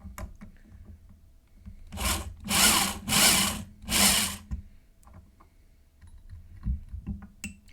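A regular drill bit bores into a hex nut in a workshop, giving three loud grinding bursts in a row with brief pauses between, then quieter handling noises.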